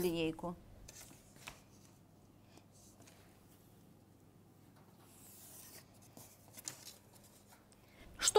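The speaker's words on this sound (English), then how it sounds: "I can use a ruler to draw the other part of the sleeve." Ruler-guided chalk or pen lines drawn on cashmere fabric for a jacket sleeve give a soft, faint scratching and rubbing that runs beneath a person talking, with a few louder handling knocks at the start and end.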